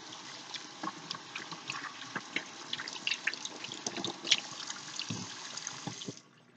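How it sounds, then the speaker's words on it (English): Hot water runs from a tap while hands are washed, a continuous close trickle with scattered splashes and drips that stops abruptly near the end. "And get some hot water going"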